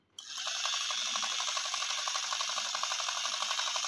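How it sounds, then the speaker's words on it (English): A toy Barbie sewing machine runs with a fast, steady mechanical ratcheting whir that starts abruptly and holds at an even level, close and alone without any voices. "my Barbie can sew her clothes really nicely"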